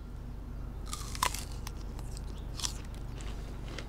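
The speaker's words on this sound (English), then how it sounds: "Really nice crunch, nice texture, great flavor, pretty juicy" Crisp bites and crunchy chewing on fresh-picked fruit with an apple-and-pear flavor from a backyard tropical food forest in Northern California, a few sharp crunches close to the mic over faint outdoor background noise, with no talking.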